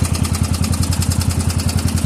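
A Massey Ferguson 30 tractor engine runs steadily up close, a low rhythmic thumping idle with even, rapid firing pulses and no voices.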